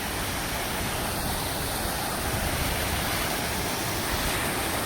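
The Noli river rushes past near the Kamnath Mahadev temple in a steady, loud, unbroken wash of flowing water, with no voices over it.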